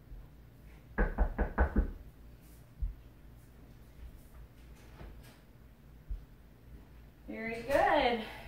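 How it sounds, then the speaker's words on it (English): Someone knocks on a door in a home workout setting, a quick burst of about five close knocks, then quieter scattered taps, with a voice speaking near the end. "Someone's knocking on my door"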